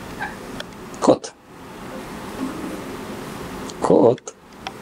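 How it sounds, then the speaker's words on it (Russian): A house cat gives two short meows about three seconds apart, close and fairly loud over a steady background hum. "Кот."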